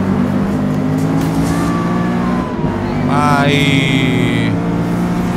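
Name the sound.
race car engine from Forza Motorsport video game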